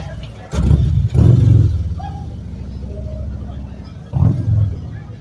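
A Chevrolet Camaro muscle car engine rumbles nearby and revs in three loud bursts, with a low steady idle between them.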